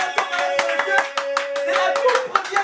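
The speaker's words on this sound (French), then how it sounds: "Sous vos acclamations s'il vous plaît" Scattered hand clapping from an audience at an evening event welcoming a woman to the stage, distinct individual claps in an uneven rhythm with a tonal voice or music underneath.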